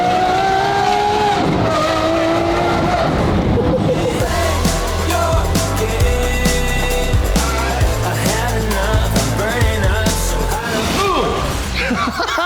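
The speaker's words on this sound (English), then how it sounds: "the mean lean V12 machine with the Gintani straight pipe exhaust" A Lamborghini SVJ with a V12 engine and Gintani straight-pipe exhaust roars loudly up close, with tire squeal and skidding as it revs and pulls away, continuous and aggressive throughout.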